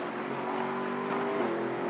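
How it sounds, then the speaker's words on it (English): A line of GT race cars at the Spa circuit, heading toward Eau Rouge in a GT Cup Open Europe race, roars past with a sustained engine drone and rising revs, loud and steady with no voices. "And we have a train of 4 cars now coming through to Eau Rouge"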